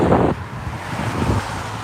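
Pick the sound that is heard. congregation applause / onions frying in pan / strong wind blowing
strong wind blowing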